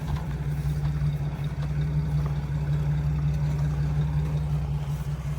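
A stuck car motor runs continuously while a wheel drags, giving a steady, loud low droning hum throughout with little variation.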